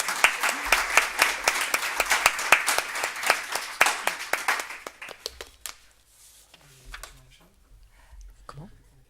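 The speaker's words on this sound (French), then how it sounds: "On peut applaudir peut-être." Audience applause after a talk on gender, race and intimacy: a few seconds of moderate clapping that thins out and fades, followed by quiet room noise and brief scattered sounds.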